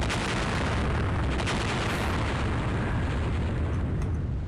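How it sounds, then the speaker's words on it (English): A whole building is destroyed and collapses in the OpenApoc video game, a dense, continuous rumbling roar of explosions and crumbling debris, loud and sustained throughout with no talking. "Control Shift right click and the whole building goes down"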